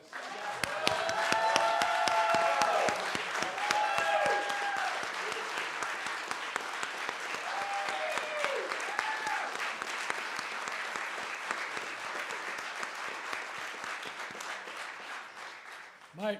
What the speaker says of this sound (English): let's give Carmina a round of applause.